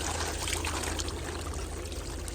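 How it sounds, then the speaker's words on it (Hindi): Water running steadily from a tap while an agricultural worker washes his face outdoors on a hot day in Korea, a constant close pouring and splashing rush with no break. "मैं तो मुँह धुल रहा हूँ भाई, जहाँ पे मेरे को पानी मिलता है मैं वहीं पे मुँह धुल देता हूँ"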